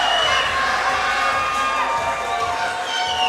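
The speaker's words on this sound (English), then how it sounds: "listen to this crowd as he stomps into the cage and takes a lap" A loud, dense arena crowd at a Fierce Fight Series MMA event cheers and roars continuously as a fighter stomps into the cage and takes a lap, a steady wall of shouting with no pauses.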